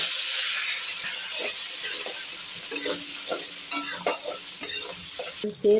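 Onion and curry leaves frying in hot oil with asafoetida, cumin and lentils, a loud steady sizzle and hiss close up, with faint stirring clicks underneath and a brief dip at the very end.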